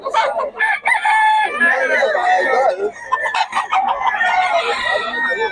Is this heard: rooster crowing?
yes